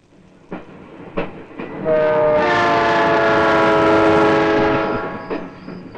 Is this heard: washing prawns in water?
no